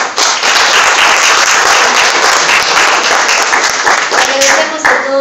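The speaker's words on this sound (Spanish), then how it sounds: "Damos un último aplauso a nuestros panelistas," Closing round of applause for panelists at a journal presentation event, loud, close and continuous clapping from the audience, with a voice faintly emerging near the end.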